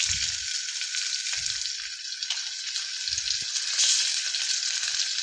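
Onions frying in a pan as the first step of a vegetable biryani, a loud continuous close-up sizzle with occasional low thumps of stirring.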